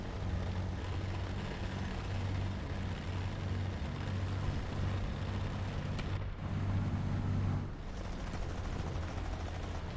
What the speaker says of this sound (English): I don't recall the engine being this sort of quiet